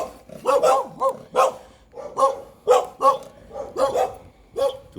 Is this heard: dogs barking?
yes